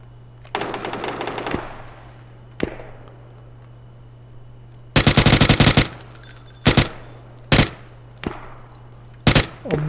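Heavy-recoil gun firing in PUBG, first a long rapid automatic burst, then a single shot, then a dense loud volley followed by several sharp separate bursts, all close and punchy.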